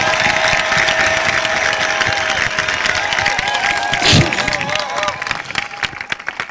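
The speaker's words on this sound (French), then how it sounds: "Applaudissez fort" A church congregation breaks into loud, dense applause with cheering and crowd noise, with voices mixed in, and the sound eases toward the end.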